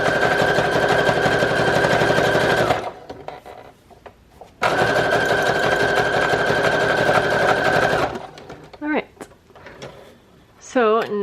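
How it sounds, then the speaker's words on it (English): Sewing machine stitching junk journal pages for an autumn journal, two loud steady runs of dense mechanical whirring separated by a pause, followed by quieter handling sounds and a brief high chirp. "I could actually go ahead and sew that on"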